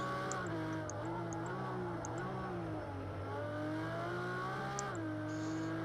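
A race car engine in Project Cars 2 drones at high revs, pitch rising and dipping through gear changes, loud and steady throughout with no talk.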